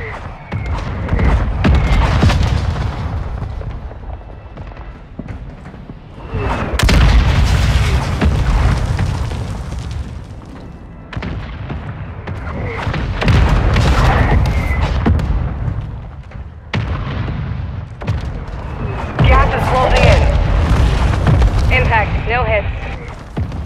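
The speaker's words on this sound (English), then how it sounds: "Mortar strike inbound." Repeated heavy booms of mortar strike explosions in Call of Duty: Modern Warfare II, several loud rumbling blasts in succession with debris crackle, interleaved with brief radio-style voice callouts.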